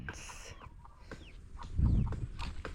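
Chickens cluck and chatter in a farmyard, with bird calls scattered through and a low rumbling bump near the end.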